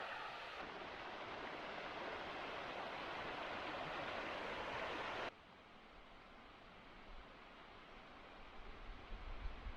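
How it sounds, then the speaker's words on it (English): The left fork of the North Fork of the Cranberry River flows beside a forest trail, a steady, soft rushing wash of water heard at a distance, continuous throughout with a slight drop in level partway. "Running parallel to the trail is the left fork of the North Fork of the Cranberry River."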